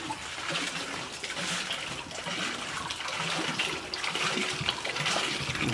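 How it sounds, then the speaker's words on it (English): Water gushing and splashing in uneven surges as a hand pump draws it, close by and continuous, without speech. "we have our sister here who is pumping the water for us"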